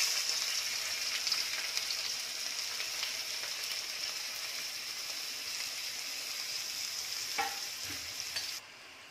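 Onion frying in hot oil in a kadhai for pomfret fish curry, a steady close hiss and sizzle that fills the whole stretch, with a brief stir or clatter near the end before it quiets.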